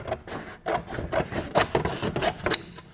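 Rough rasping and cutting strokes come from trimming a firewall panel on a 1937 Lincoln Zephyr. The strokes are repeated and uneven, close by and fairly loud, with scraping bursts about every half second.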